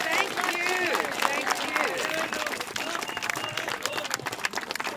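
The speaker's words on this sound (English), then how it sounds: "So another round of applause for the man" A rally crowd applauds speaker Bob Kernohan with sustained, dense clapping and some cheering, loud and continuous, while a voice talks over part of it.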